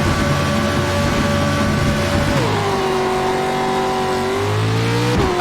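Dirt truck engine in iRacing revving hard at a race start, a loud continuous roar that climbs in pitch through the gears, with a shift dip midway and another late.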